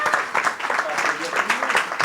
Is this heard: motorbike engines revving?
no